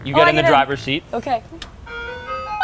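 An ice cream truck parked in a garage starts playing its tinkly electronic jingle, a bright repeating melody that begins after a brief exchange between people talking inside the vehicle.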